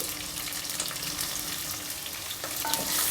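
Onion dropped into hot oil with browned chana dal crackles and sizzles steadily up close, a dense continuous frying hiss with small pops throughout.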